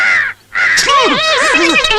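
A crow caws loudly and close by, harsh repeated calls following a brief pause, with strained vocal tones mixed in.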